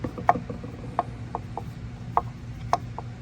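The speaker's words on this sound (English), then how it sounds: "take my big screwdriver and seat that back in nice and snug" A big screwdriver seats the drain plug on a Tohatsu outboard's lower unit, giving a handful of short clicking, ratcheting ticks spaced unevenly over a low background hum.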